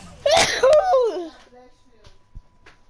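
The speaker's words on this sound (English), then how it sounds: "I sneeze" A single sneeze bursts out near the start, followed by a few quiet clicks and small background noises.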